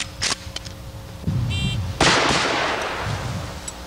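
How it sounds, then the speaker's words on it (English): A jungle gun, a rifle, fires in a couple of sharp, loud reports with a brief rumbling decay after each, heard close up with faint background noise. "Let's start off with the jungle gun."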